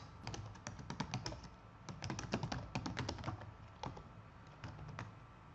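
Someone types a sentence on a computer keyboard: quiet, close clusters of crisp key taps in irregular bursts with short pauses and no speech.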